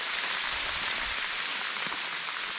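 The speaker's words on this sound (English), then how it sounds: "it is now hailing on us" Hail mixed with freezing rain pelts down on a hammock camp in the Cranberry Wilderness, a dense, steady hiss of close, constant patter with no letup.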